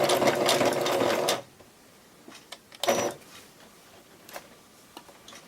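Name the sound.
sewing machine stitching a zigzag stitch on fabric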